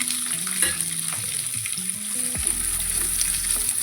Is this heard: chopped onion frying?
yes